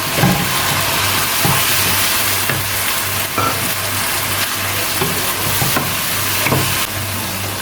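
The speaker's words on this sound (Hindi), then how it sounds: "साथ साथ कीमे को फ्राई करते जाएंगे" Mutton keema frying with ginger garlic paste, a loud, dense, continuous sizzle and hiss with occasional stirring scrapes, steady throughout with no talking.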